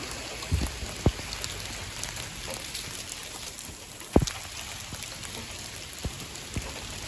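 Steady outdoor rain patters around a fatwood fire-starting spot, with occasional sharper drips and taps standing out over the hiss.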